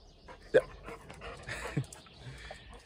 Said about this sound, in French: Iron, mon chien qui vous souhaite le bonjour.